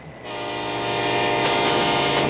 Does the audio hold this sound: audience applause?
no